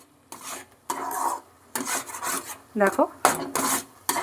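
Spoon scraping and stirring carrot firni in a pot, in repeated rasping strokes of a second or so each, close and fairly loud, with a brief spoken word in between.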